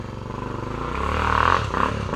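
Yamaha Tornado motorcycle engine revving, a rising, throaty roar that swells toward a peak and then drops back, fairly close and loud with no talk over it.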